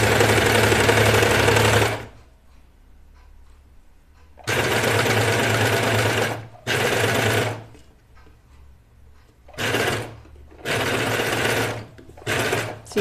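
A serger overlocks the seams of a small baby t-shirt in several loud, steady bursts of rapid mechanical stitching. Short pauses separate the bursts, with faint handling noise between runs.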